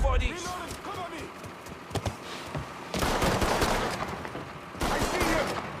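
Bursts of rapid gunfire ring out in a shootout in the video game Mafia 3, with heavy volleys after a few single shots and a shouting voice in between.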